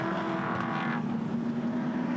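V8 ute race cars racing at Phillip Island, a steady close engine roar with a brief rising whine as a car passes, continuous throughout with no voices.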